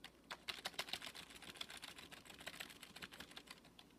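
Fast, steady typing on a rubber dome keyboard, a continuous patter of soft clacks with no voices.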